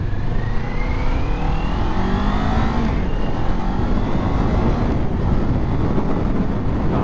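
A 2024 Kawasaki Ninja 500 motorcycle engine while riding, loud and close, its pitch climbing as it accelerates, mixed with heavy wind rush against the microphone.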